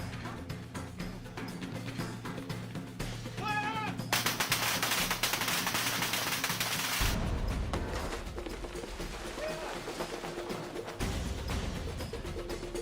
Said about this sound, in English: a series of 3 explosions, each one starting with a gas bomb, ending with a water bomb with bullet hits